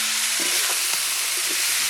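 Paina kutu tipped into a pan of already-fried spices, sizzling with a steady broadband hiss and a few soft stirring scrapes, close and moderately loud, no voices.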